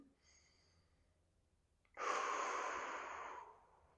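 A deep inhaled breath taken during a breathing exercise, a soft airy rush rising after a quiet pause and holding steady for about a second and a half before fading, close and alone.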